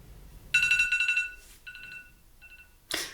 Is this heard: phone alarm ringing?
yes